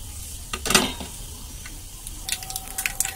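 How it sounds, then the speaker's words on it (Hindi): Mustard seeds dropped into hot refined oil in a frying pan, giving a soft crackling sizzle with a brief louder burst of spattering and light stirring scrapes, steady and close with no talking. "तेल मेरा गरम हो गया है, इसमें मैं पहले राई डालूंगी।"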